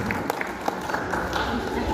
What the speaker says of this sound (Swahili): Tupigie makofi Mheshimiwa Augustine Kamande